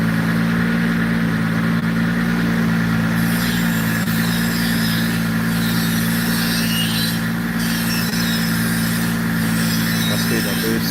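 A turbocharged car engine running steadily on a dyno, a loud sustained mechanical drone with a strong low hum and faint whistling overtones, holding a fairly even pitch throughout.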